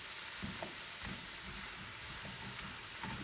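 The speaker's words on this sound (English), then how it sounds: "while you keep cooking the beef" Beef sizzles steadily in a hot pan with stir fry sauce, a dense, even crackle with faint stirring scrapes and no talk.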